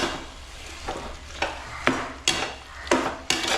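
Beef curry being stirred in a pot, with a spoon scraping and knocking against the sides in about six rhythmic strokes, close and fairly loud, over a low kitchen hum and no talk.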